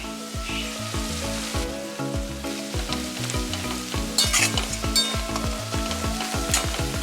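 Dry spices including Kashmiri red chili powder and cumin powder frying in a pan for a chicken gravy, a loud sizzle under rhythmic thumping scrapes and clatter of stirring, with tonal hum throughout and no speech.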